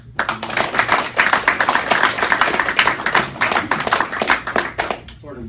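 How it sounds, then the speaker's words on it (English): Brisk applause from a small group at a military promotion ceremony, a dense steady patter of hand claps lasting several seconds at close to moderate distance, with a voice faintly mixed in. "Round of applause."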